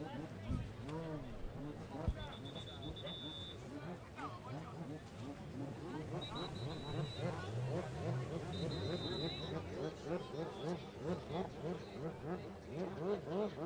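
Personal watercraft engines rev and whine at a Lake Hartwell race, a continuous throbbing drone with rising and falling pitch sweeps under a commentator's talk.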